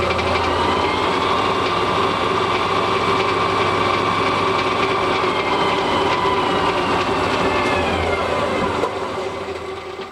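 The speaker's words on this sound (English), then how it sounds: "we've got our center punch centered in the lathe, and we're going to spin it and let you see it." Lathe spinning a center punch in a machine shop: a steady whirring hum with a constant pitch, then a slight drop in level near the end.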